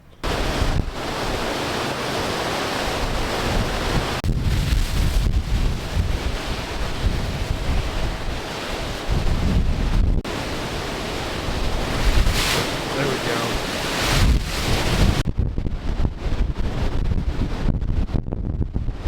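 Ocean waves and strong wind roar across the open deck 4 of the Royal Caribbean cruise ship Liberty of the Seas on a sea day near Bermuda, a loud continuous rush with heavy wind buffeting the microphone.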